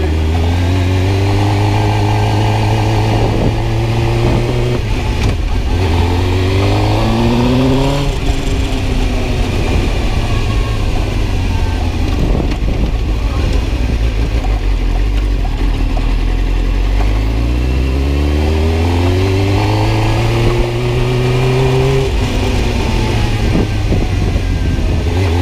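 A Suzuki GSX-R 750 motorcycle engine idles loudly up close and is revved repeatedly, the pitch climbing and falling in several sweeps over a steady engine rumble.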